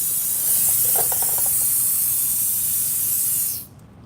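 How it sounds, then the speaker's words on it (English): A steady, loud hiss of air escaping from a leaking tire runs continuously for several seconds, then cuts off abruptly near the end. "if this thing was leaking like that, guys, you know what it's gonna do? It's gonna take all the air out of the tire"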